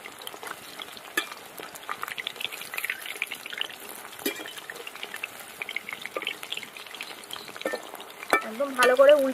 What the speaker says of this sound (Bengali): এবার আমি পকোড়াগুলো ভেজে নেব।